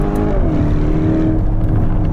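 Black Lamborghini Urus S Esteso by Novitec climbing a mountain road, its engine loud and close, a deep droning roar with rising and falling pitch as it pulls uphill, no voices.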